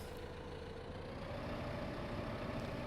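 Steady tractor engine idling in Farming Simulator 15, a continuous low rumble with a faint mid-range drone, constant and moderately quiet throughout with no talk.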